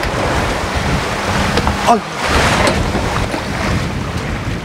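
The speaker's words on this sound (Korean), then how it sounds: "점점 더 거칠어지는 파도가 걱정이네요" Rough sea waves wash around a fishing boat off Malta, a broad steady roar of water and wind filling the whole stretch, with a brief voice exclamation near the middle.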